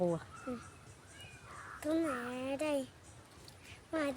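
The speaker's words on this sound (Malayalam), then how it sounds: "അതാണ് ഞങ്ങളുടെ പൂച്ച പുതിയ അതിഥി" A kitten meows a few times, short high plaintive calls mixed in with nearby talk.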